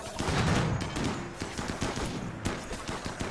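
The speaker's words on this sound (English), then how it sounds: "I don't like mortars. Especially not into our own base." Rapid bursts of mortar fire and explosions in the video game RimWorld, dense overlapping booms and cracks in quick succession, loud and continuous throughout with no talking.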